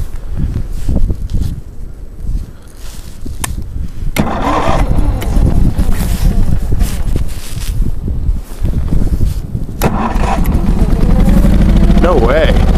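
An engine is cranked with the choke set during a snowstorm, the key area packed with snow, and it sputters toward starting in loud, uneven bursts while someone talks over it.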